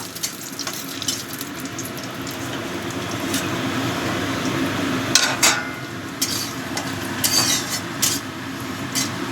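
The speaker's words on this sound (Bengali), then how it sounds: "এবার কাজুগুলো একটু ভেজে নেব।" Halved cashews fry in hot oil or ghee in a pan for vegetarian khichuri, giving a steady close sizzle with occasional scraping and stirring clatter and no voices.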